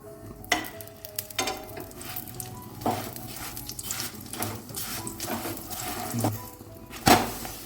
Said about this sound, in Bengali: আমি পরোটাটা ঘি দিয়ে ভাজছি